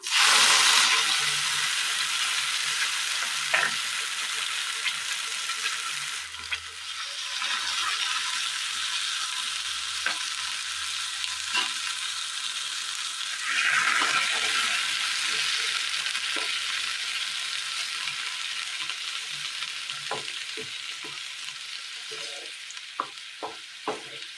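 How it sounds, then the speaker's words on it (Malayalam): Ground spice paste added to softened, sautéed onions and stirred in a hot pan, giving a continuous sizzle and fry with intermittent scraping clicks of the spoon throughout, no talking. "സബോള കിട്ടിയിട്ടുണ്ട് വാടി വന്ന സബോളയിലേക്ക് അരച്ചു കൊണ്ടുവന്ന് വെച്ചിരിക്കുന്ന അരപ്പ് ചേർത്ത് കൊടുക്കാം"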